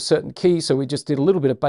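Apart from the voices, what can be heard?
No distinct noise like a dog, phone or traffic.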